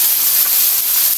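Oyster sauce hits a hot pan during a chicken with pineapple stir-fry, giving a loud, steady broadband sizzle that hisses continuously throughout.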